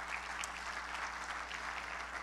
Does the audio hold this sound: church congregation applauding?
yes